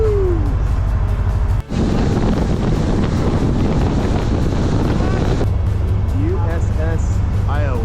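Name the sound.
boat engines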